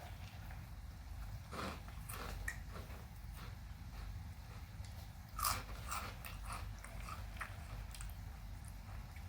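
Cheetos Crunchy Flamin' Hot chips being bitten and chewed up close, irregular crisp crunches with one louder snap midway, over a low steady background hum.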